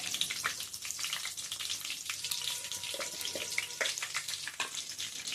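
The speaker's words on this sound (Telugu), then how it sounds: "పచ్చిమిర్చి, జీలకర్ర వేగినాయి." Green chillies and cumin seeds frying in hot oil for an egg kurma, giving a steady close crackle and hiss with scattered sharper pops throughout.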